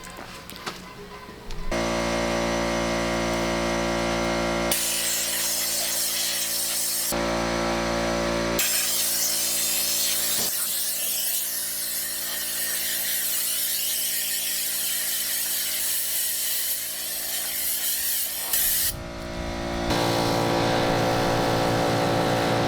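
A DA air sander works over the roof of a 1968 Buick Skylark, a steady loud whir that starts and stops in several bursts with short pauses between them, close by and without talk.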